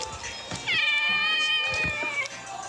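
A cat meows close to the microphone, one drawn-out, rising-and-falling meow in the middle, surrounded by soft shuffling noise.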